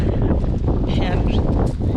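Loud, buffeting wind roars continuously against the microphone, a rough constant rush with no other clear sounds.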